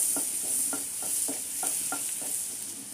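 Cardamom pods and mace pieces stirred in hot oil for butter chicken, a light even sizzle with a steady run of soft scraping strokes about three per second, close and quiet, no voices.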